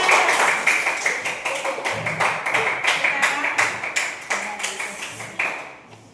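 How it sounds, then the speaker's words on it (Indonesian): A school class claps for classmates in rhythmic, steady beats, close and moderately loud, slowing and fading toward the end, with some faint voices underneath. "Beri tepuk tangan untuk temannya"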